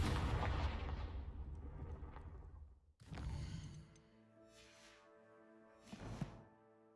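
A Confringo fire spell in Hogwarts Legacy goes off as a booming blast with a long roaring decay, followed by a second sharp burst and fainter magical whooshes and tones.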